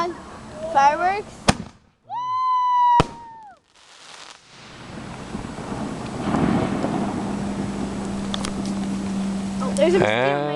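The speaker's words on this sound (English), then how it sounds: "Come on, fireworks." Fireworks at a family backyard show, with whistling rockets rising in pitch followed by sharp bangs and a crackling, rumbling stretch, heard outdoors at moderate distance with quiet voices in between.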